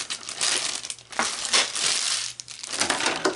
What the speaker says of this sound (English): Unwrap the base.